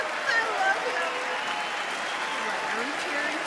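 An audience claps and cheers steadily throughout, a broad continuous wash of applause with speech faintly present underneath.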